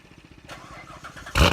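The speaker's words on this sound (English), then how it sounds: "So let's start it up." A C7 Corvette's engine cranks and fires at the very end, a sudden loud burst after a second of low, faint background rumble.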